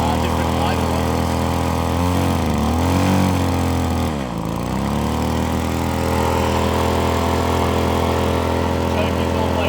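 A McCulloch Airstream IV two-stroke leaf blower engine idles steadily close by, its pitch dipping briefly partway through before settling back into an even, buzzing putter.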